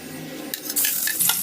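Garlic, onion and chicken being sautéed in a frying pan, with a rising sizzle in the second half and a few light clinks of a utensil against the pan, up close with no talk.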